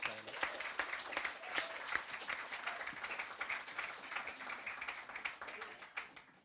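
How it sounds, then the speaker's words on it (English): Applause for Denise, a singer at an online singing session, with many hands clapping at once and fairly close, the claps steady and then tapering off. "One more round of applause for Denise."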